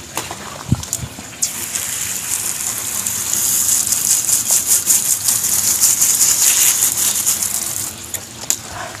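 Water runs and splashes steadily over an aglaonema plant cutting being washed, a continuous gushing, rain-like rush with a few sharper splatters, loud and close, with no talking.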